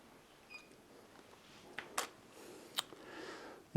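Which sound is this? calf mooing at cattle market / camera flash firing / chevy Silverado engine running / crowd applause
camera flash firing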